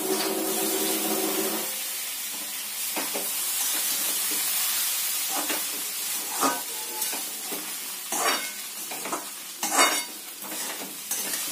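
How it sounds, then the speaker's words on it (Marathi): Poha steaming in a covered pan after a splash of water, giving a steady soft hiss with a sizzling burst at first, then light stirring scrapes and taps of the lid toward the end. "पोह्यांना छान वाफ आणणार आहोत आपण या ठिकाणी."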